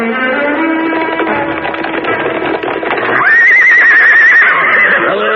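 A horse whinnies loudly in an Ali Baba and the Forty Thieves audiobook, among the thieves' horses. A rising, drawn-out neigh fills the second half over a dense, busy background, with no talking.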